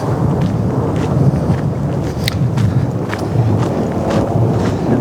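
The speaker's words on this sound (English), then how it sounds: "I am too far away from my vehicle for it to be thundering like this." Thunder rolls through a storm in Yellowstone National Park as a steady, deep rumble lasting several seconds, with wind noise buffeting the microphone outdoors.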